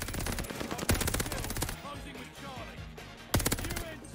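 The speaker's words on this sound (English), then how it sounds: "This thing sounds like an LMG" Rapid automatic fire from an LMG-style machine gun in a first-person shooter game, loud sustained rattling bursts with a brief pause between them over constant game noise.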